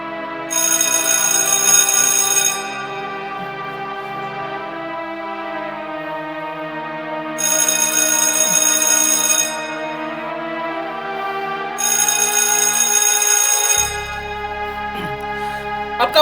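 A telephone rings in repeated bursts of bright electronic trilling over a constant buzzing tone, loud and near, with no one speaking.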